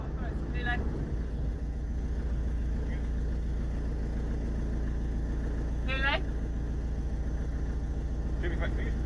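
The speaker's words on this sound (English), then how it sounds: "Turn the engine off for me, mate" A car engine idling, a steady low rumble that runs throughout while a few brief chirping sounds rise above it.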